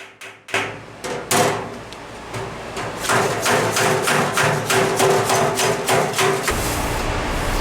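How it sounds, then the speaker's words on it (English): Rapid metallic hammer-and-dolly blows beating dents out of a vintage MAC sheet-metal toolbox, a steady run of sharp strikes close by with short pauses, ringing slightly after each hit. "now with a hammer and dolly, I'm just fixing dents the same way I do with a car."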